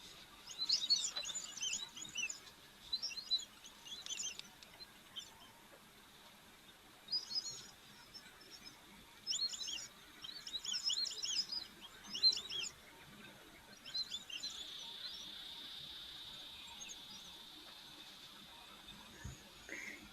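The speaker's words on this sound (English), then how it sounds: "So this is a call of the white-faced whistling ducks," Repeated high, thin whistling calls from several white-faced whistling ducks in short bursts at a waterhole, moderately distant, with a steadier whistle later and faint background noise.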